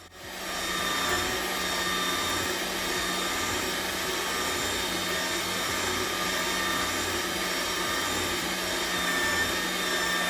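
An AMZChef 1902B juicer runs steadily on fruits and vegetables, giving a loud, continuous motor whine with a grinding edge. It holds unbroken for about ten seconds, close by, with no voices.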